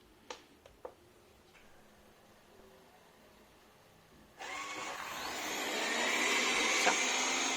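After a few light clicks, a robot vacuum cleaner starts up with a sudden whirring hiss and keeps running steadily, growing slightly louder and closer over the last seconds.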